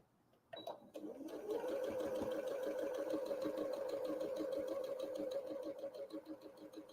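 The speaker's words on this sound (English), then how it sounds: "And then we can sew that right on that line too" A sewing machine whirs into action stitching a quilt block along a marked line, a sharp start followed by a fast, even mechanical rattle that runs steadily for several seconds before slowing at the end.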